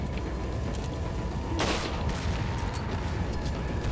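A single sharp sniper rifle gunshot in the game Resident Evil 4 cracks out, followed by a fainter distant report, over a low continuous background rumble.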